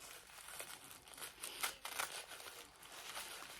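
Paper and wrapping crinkle and tear as day 22 of an advent calendar gift is opened, quiet close-up rustles with a few sharper crackling bursts.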